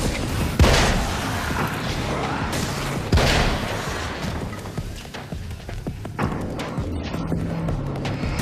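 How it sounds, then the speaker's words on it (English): An explosion goes off in Alan Wake's American Nightmare, a loud burst followed by a second blast, heard among ongoing gunfire and rumbling game noise. "Grenade!"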